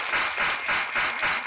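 A crowd at a religious gathering claps in thanks, with several swelling waves of applause in a rhythmic pattern.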